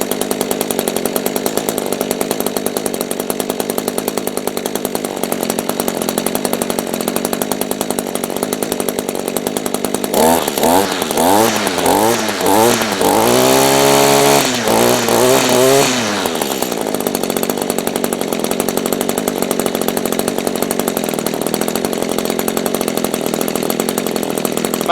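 A two-stroke engine on an Echo SRM-210 string trimmer runs steadily with a buzzing drone, then revs up sharply for several seconds in rising and falling bursts before settling back to idle; no talking.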